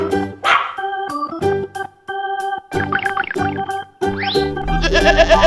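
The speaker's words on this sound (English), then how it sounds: "Sheep." Sheep bleating in a few wavering cries, mixed in with background music and other bright tones, moderately loud and close.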